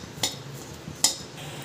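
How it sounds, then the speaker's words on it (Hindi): A metal spoon stirs khoya roasting in a pan over a low flame, giving two distinct clinks against the pan over soft scraping. No one speaks. "सो इसे भून लेते हैं, लो फ्लेम पे भूने ताकि हमारा खोया जले नहीं"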